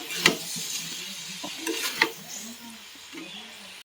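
A spatula scraping and stirring soybean curry in a pan, with a few sharp clinks against the metal over a soft, steady sizzle, close and fairly quiet.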